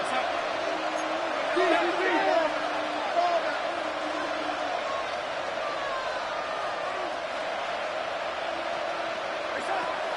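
A football stadium crowd at a Seattle at Las Vegas game swells before a third-and-long snap, a dense roar with scattered whoops and cheers, steady and loud, with a commentator talking over it.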